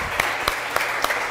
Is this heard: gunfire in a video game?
no